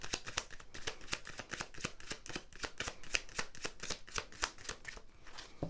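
Tarot cards being shuffled by hand, a rapid rhythmic series of crisp riffling snaps repeating steadily and close up for the whole stretch, with no voice.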